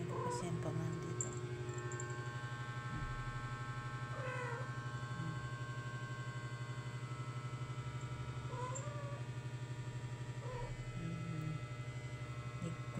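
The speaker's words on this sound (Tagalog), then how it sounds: "Ayun yung pusa na ligaw na lang." A stray cat meows several times in short rising calls over a steady low mains hum, with a voice talking in the background.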